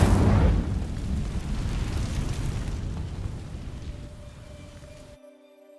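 Incendio fire spell cast in Hogwarts Legacy, bursting open with a loud fiery whoosh and boom, then trailing into a rumbling roar that slowly fades away.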